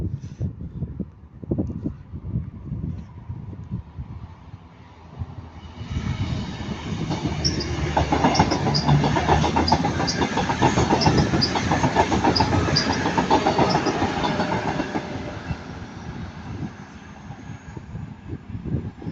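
Train 22137 approaches and passes at Ardwick, a low rumble building into a loud rolling roar with rhythmic wheel clatter and a faint squeal, then slowly fading.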